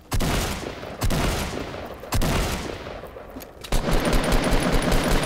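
Rapid automatic weapon fire in the mobile video game Fortnite Mobile, several loud close bursts of repeated shots separated by brief pauses, with no voices over it.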